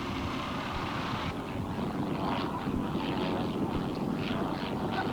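A propeller aircraft performing aerobatics at a 1984 air show in Masterton, New Zealand drones from a distance, its engine note swelling and fading under wind noise on the microphone.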